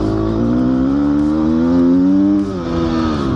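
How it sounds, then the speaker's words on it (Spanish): Gas Gas motorcycle engine on a warm-up lap, heard up close from the rider's position as it revs steadily and climbs in pitch, then drops briefly at a gear change and picks up again. "Primera vuelta de calentamiento un poco para conocernos la moto."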